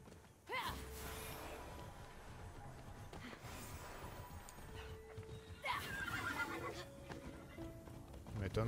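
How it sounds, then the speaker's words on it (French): Horses in the video game Immortals Fenyx Rising neigh and whinny at close range, two separate calls with clip-clopping hooves and game ambience beneath, no talk over them. "Faut peut-être que je ramène des chevaux."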